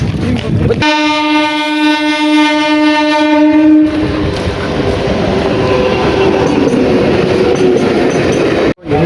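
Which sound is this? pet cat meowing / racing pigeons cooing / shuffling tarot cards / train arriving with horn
train arriving with horn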